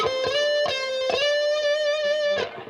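Electric guitar picking a minor 7 arpeggio, clear sustained notes plucked one after another in a slow run, a held tone ringing before the last note cuts off.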